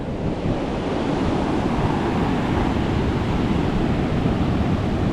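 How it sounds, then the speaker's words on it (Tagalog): Big ocean waves crash and surge steadily onto a shore near a damaged hut and post, a dense, loud roar of surf and wind with no pauses. "Nakakatakot pagmasdan yung alon."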